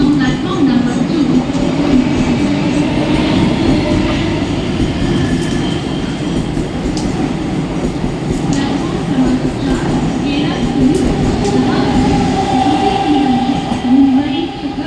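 A Mumbai local train rolls into a station platform, loud and close, with a continuous rumble, rail clatter and faint wheel squeal throughout, and a station announcement and crowd murmur underneath.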